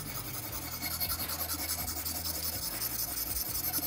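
A Kizlyar Katran knife blade being sharpened on a Boride PC stone, with steady gritty scraping strokes in a continuous rhythm, close and moderately loud, alone without talk.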